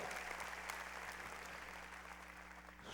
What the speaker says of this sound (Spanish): Merecen un aplauso.